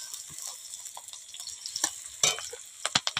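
Onion, cumin, cardamom, cloves and cinnamon fry in hot oil with a little sugar, crackling in soft bursts punctuated by a few sharp pops and spoon clinks, close and quiet, without speech.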